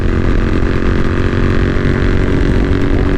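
A Royal Enfield Interceptor 650 fitted with Lextek exhausts rumbles loud and close on a country road, a deep continuous engine and exhaust roar with wind buffeting the microphone.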